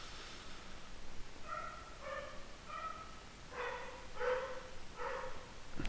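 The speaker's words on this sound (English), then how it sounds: "This is the dog." A dog barks several times in a quick series, faint to moderate and somewhat distant, over a steady background hiss with no talking.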